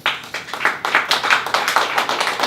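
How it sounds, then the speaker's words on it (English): An audience at a salon-style performance event in a lounge gives a short round of applause, with a small group of distinct, close hand claps in a quick, uneven rhythm. "a round of applause again to them for that"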